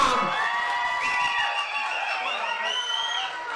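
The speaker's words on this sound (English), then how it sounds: "Give Fudge man a round of applause" A crowd at an outdoor chilli eating contest cheers and whoops, with mixed shouting, laughter and children's voices in a steady, lively roar; clapping is not distinct.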